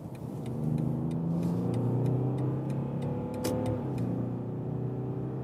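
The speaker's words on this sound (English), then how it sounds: "Well, that was 70 to 120 kilometers an hour acceleration." A BMW 7 Series in sport mode accelerates from 70 to 120 km/h, its engine note rising steadily through gear changes in a continuous, close cabin drone with no talking.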